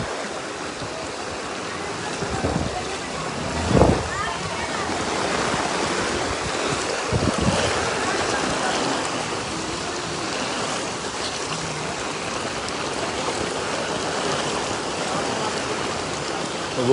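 Rain falls steadily on deep flood water, a constant broadband wash of splashing and rushing water with a few louder splashes, heard close and without talk.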